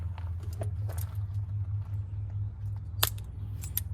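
Insulation stripped off trailer hitch electrical wire with a hand tool, heard as a few faint close snips and clicks over a steady low hum, with a sharper snap near the end and no talking.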